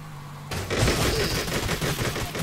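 Rapid bursts of gunfire in a zombie shooter video game, loud and dense automatic shots rattling continuously after a quiet start.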